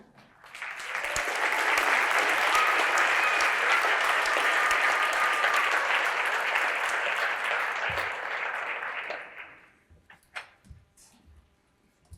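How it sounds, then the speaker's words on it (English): Sustained audience applause following an award presentation for students, loud and steady for about nine seconds before tapering off into a few scattered claps and quiet room noise. "let's give our students another round of applause"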